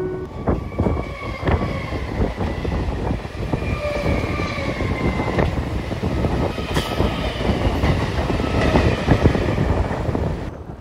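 A local commuter train runs along the rails, a loud, steady rumble with rhythmic wheel clacks and occasional high squeals from the wheels, with no voices.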